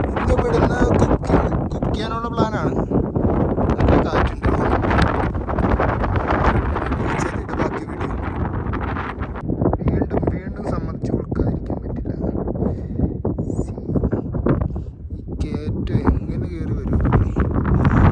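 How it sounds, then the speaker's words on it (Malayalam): Strong gusting wind on a high Himalayan trail near Gorak Shep at altitude, roaring and buffeting the microphone steadily throughout, loud and close, with no clear pauses. "നല്ല കാറ്റുണ്ട്."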